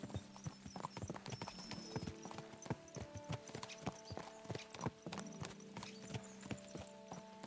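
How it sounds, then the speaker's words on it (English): Horse hooves in Kingdom Come Deliverance 2 beat a steady, fast clip-clop rhythm of crisp, close impacts, with a brief whinny and faint tonal music beneath. "Let's really spur these horses on, eh?"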